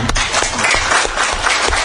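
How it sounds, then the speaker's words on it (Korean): A small audience at a Buddhist dharma class claps briefly for a student's presentation, giving a short burst of close, dense applause. "예, 박수 좀"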